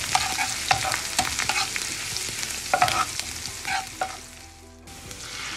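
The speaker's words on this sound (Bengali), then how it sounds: "আমি আস্ত জিরাটা এখানে ভেজে নিব একসাথে।" Whole cumin seeds frying in a pan, crackling and sizzling with repeated stirring scrapes throughout, then a brief near-silent pause before the sizzle resumes faintly.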